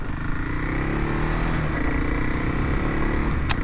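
A 2021 Kawasaki KLX 300SM motorcycle on a ride gives a steady engine drone with gear-shift pitch changes under heavy wind rush, loud and continuous throughout.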